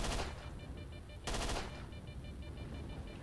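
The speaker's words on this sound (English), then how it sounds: "I'll shoot it" Gunfire in the video game S.T.A.L.K.E.R.: Shadow of Chernobyl: two short bursts of shots about a second apart, each cutting sharply through a steady in-game ambient background, with no voices over them.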